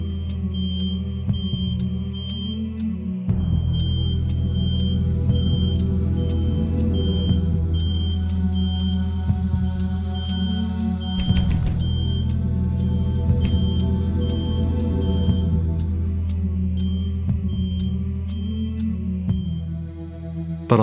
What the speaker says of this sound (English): The smoke alarm was in another unit